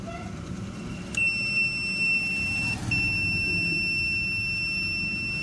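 A continuity-tester buzzer sounds a sustained high electronic tone while probing a speaker connection to an amplifier IC during repair of a device with no sound, steady and loud with a brief dropout midway.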